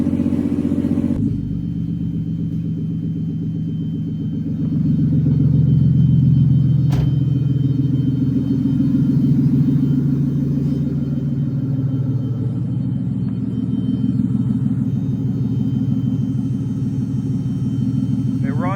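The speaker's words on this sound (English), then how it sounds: "I just have to hold the idle high." A barn-find BMW E36 engine runs inside a garage with the idle held high, a low continuous rumble that swells briefly as someone talks over it nearby.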